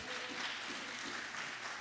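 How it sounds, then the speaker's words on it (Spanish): A church congregation applauds for a first-time visitor, steady clapping at a moderate distance that continues evenly without pause. "fuerte el aplauso para Mercedes"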